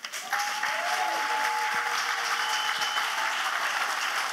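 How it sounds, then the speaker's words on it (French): Audience applause at a Bible camp gathering, a dense, steady wash of many hands clapping together, sustained and fairly loud throughout with no speech over it. "Acclamez. Clap."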